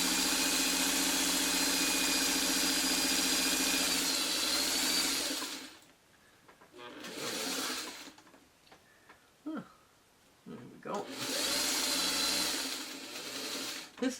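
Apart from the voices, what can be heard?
sewing machine running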